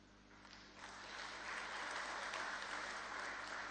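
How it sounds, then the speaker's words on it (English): An audience at a live Inooro FM event in Kenya applauds steadily as a guest comes forward, dense, even clapping from a crowd that swells slightly and holds, heard at a moderate distance without talk. "the norm is you clap until she arrives"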